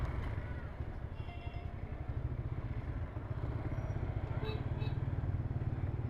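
A bike taxi motorcycle rides through Kolkata traffic at speed. The low engine throb pulses steadily and fairly quietly under road noise, with faint clatter.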